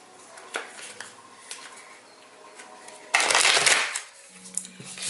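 A burst of card shuffling, a quick riffling flutter lasting about a second, preceded and followed by faint light clicks and taps in a quiet room.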